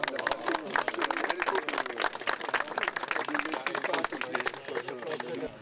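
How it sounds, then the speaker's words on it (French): Applause at an official inauguration of an extended site, dense steady clapping from a crowd lasting throughout with scattered voices mixed in. "Et on l'applaudit. Bravo."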